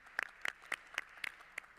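A few quiet, separate claps sound at a road safety ministerial conference, about six sharp, evenly spaced hits, faint and sparse.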